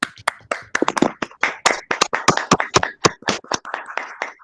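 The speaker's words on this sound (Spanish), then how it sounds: "a darle un fuerte aplauso" Claps from a small audience welcoming a guest speaker, a psychologist, to an online teaching talk, sharp separate hand claps close by in an uneven, loose rhythm without talk.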